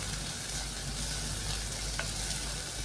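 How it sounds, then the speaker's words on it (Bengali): Chopped ginger frying with onion in a pan gives a soft, steady sizzle that runs quietly and evenly throughout, with faint stirring and no talking. "আদাটা দিয়েও পেঁয়াজের সাথে একটু ভালো করে ভেজে নিচ্ছি।"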